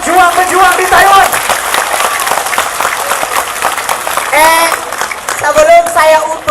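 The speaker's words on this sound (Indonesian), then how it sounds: "berikan tepukan kepada pejuang-pejuang di Taiwan" A crowd at a religious gathering in Taipei claps loudly while voices call out and a speaker talks over the applause, with the clapping and voices mixed close together throughout.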